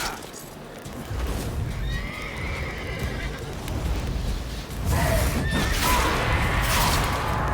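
Roach, the horse in the video game The Witcher 3: Wild Hunt, gives a loud neigh over steady clip-clopping hooves, and a second whinny comes near the end amid continuous galloping and game ambience.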